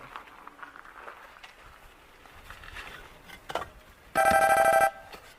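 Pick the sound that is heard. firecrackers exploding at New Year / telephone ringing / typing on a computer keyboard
telephone ringing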